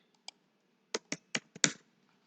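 Short burst of computer keyboard typing while writing Python code: a few isolated keystrokes, then a quick run of five or six close, crisp clicks with no talk over them.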